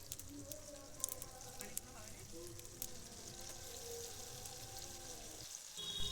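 Onion, tomato and green chili frying in a pan, a soft continuous sizzle with scattered pops and light stirring clicks, mostly quiet beneath background music-like tones.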